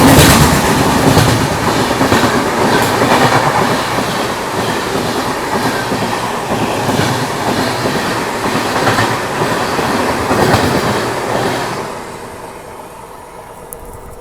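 Express passenger train running at speed near Katol railway station, a loud continuous rumble with rhythmic clickety-clack of wheels over rail joints, fading noticeably toward the end as it passes on.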